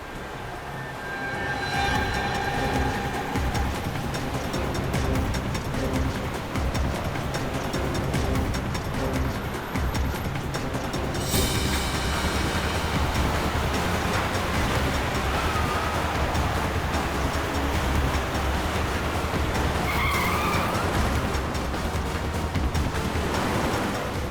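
A car speeding recklessly in a tense chase, its engine and road noise roaring loud and steady throughout, with a brief harsh burst partway through.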